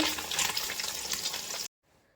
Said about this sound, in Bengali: আর এখন এই যে মোরলা মাছ ভাজছি, আমুদি মাছ